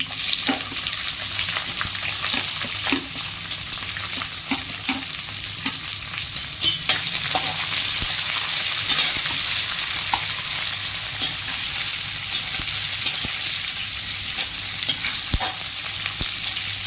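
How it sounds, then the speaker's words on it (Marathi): Mustard seeds, cumin, peanuts and onion fry in hot oil for a spicy homemade Maggi dish, a loud continuous sizzle with scattered pops and occasional stirring clinks throughout. "राई चांगली तडकली, जिरे घालते, नंतर शेंगदाणे आणि कांदा टाकते।"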